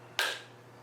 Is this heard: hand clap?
yes